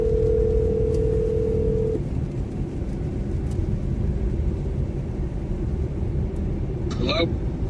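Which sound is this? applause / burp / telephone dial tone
telephone dial tone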